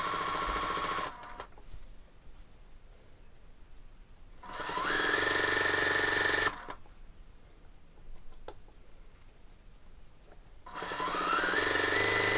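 A sewing machine stitches dress side ties in three loud bursts of steady whirring, separated by quieter pauses with handling noise.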